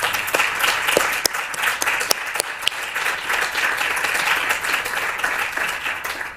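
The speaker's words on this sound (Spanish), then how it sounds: "Me gustaría dar un aplauso simplemente por eso." An audience claps for several seconds in thanks for years of dedication, producing a steady patter of many hands with a few sharp, close individual claps standing out.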